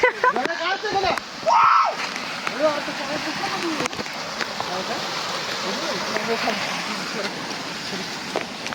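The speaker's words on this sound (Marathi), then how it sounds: "धबधबा" A monsoon waterfall near Ghateshwar Shiv Temple pours in a constant broad rush, while people talk nearby over the water.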